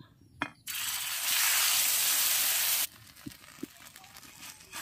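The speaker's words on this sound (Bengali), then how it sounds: "আরেকটা ব্রেডের পিসও ভেজে নিলাম" A batter-coated bread slice for eggless French toast is laid in a hot pan and sizzles with a loud, broad hiss for about two seconds. The hiss stops abruptly, leaving faint clinks and quiet.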